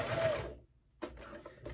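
A manual sewing machine stitches fabric for a budget bag, running in two short close bursts of rapid mechanical whirring separated by a brief pause.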